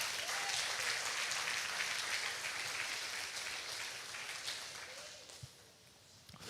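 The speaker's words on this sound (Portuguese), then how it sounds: "Você pode aplaudir ao Senhor?" A church congregation applauds during a Portuguese-language sermon, a dense, steady wash of clapping that fills the whole stretch and tapers slightly toward the end.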